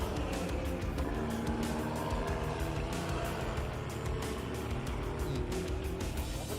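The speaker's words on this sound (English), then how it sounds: "It looks like he's bouncing off the rev limiter very low down in the rev range." A drift car at a national drift series event revs hard against a low rev limiter with an ignition fault, a steady, continuous engine roar that stutters and bounces throughout, loud and fairly close.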